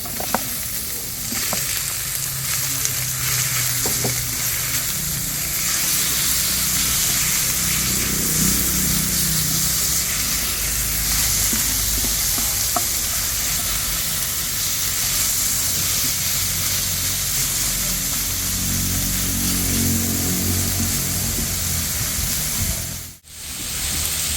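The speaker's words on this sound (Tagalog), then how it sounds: "ilalagay na rin po natin yung karne para po masangkot siya" Meat sautéing in a hot pan for lomi, a steady loud sizzle and hiss with occasional stirring scrapes running throughout, briefly dipping near the end.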